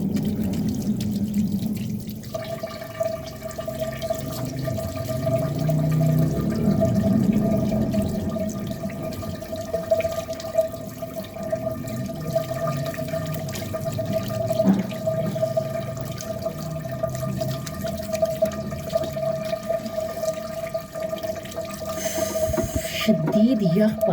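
Water runs steadily from a tap as henna is washed off the hands, a continuous close splashing and trickling that lasts throughout, with a steady tone underneath.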